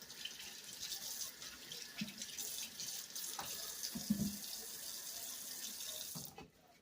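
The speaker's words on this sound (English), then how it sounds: "Let me put this on this side so I can wash my hands." A kitchen tap runs while hands are washed under it, a steady close hiss of flowing water with a few splashes and clunks, cutting off near the end.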